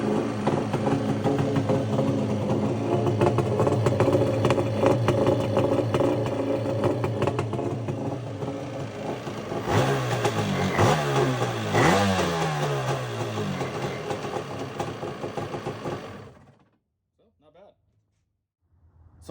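A Yamaha 650/701 engine fitted in a Kawasaki 300SX stand-up jet ski fires up and runs roughly, revving in a few quick blips before shutting off into silence, close by with some speech underneath.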